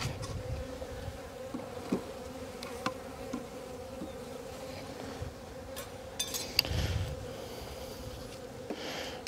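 Honey bees buzz around an open hive during an apiary inspection, a steady close swarm drone with individual insects flying past the microphone and a few brief clicks, no talk.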